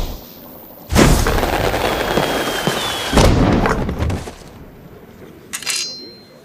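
A magic potion mixture blows up with a loud, close boom that rolls into a long crackling roar, followed by a second burst and then a smaller pop as it dies away.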